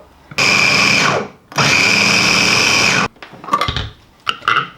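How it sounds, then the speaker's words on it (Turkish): A food processor chopping onion whirs loudly in two steady bursts of a few seconds each, followed by a clatter of knocks and rattling. "Soğanı bu şekilde robotun içine koydum ve çekeceğim"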